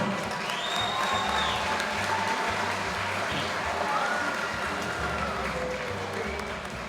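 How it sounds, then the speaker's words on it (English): Church gathering audience applauding a priest, sustained mid-distance clapping from a sizeable crowd with faint cheers mixed in, steady for several seconds. "A big clap to Father Charbel."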